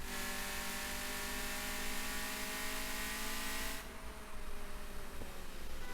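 A car's engine and exhaust in the video game Car Parking Multiplayer 2 give a steady mid-pitched whirring drone, holding even and fairly close, then shifting lower partway through. No one speaks over it.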